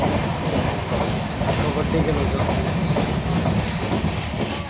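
Inside a moving train, a dense, steady rumble of wheels and carriage noise fills the whole stretch at a constant loud level, with a voice talking faintly under it.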